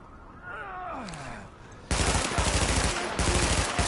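Dense automatic gunfire in the video game The Division breaks out halfway through, loud and continuous with brief gaps, following quieter synthetic tones and someone speaking French beforehand.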